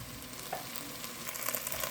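Rice is stirred and sautéed in a pot, with a soft, steady sizzle and faint scraping of the spoon throughout, fairly quiet and close.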